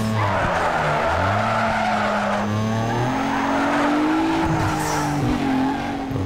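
A Mitsubishi Eclipse drifting in Need for Speed Underground 2, with steady, loud tire squeal and skidding over the revving engine, sliding on and on with little talk.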